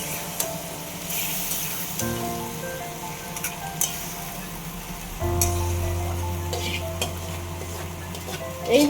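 Fried eggplant is stirred into a sizzling curry, with a steady frying hiss, scraping spoon strokes against the pan and occasional clinks, a low hum underneath and no speech.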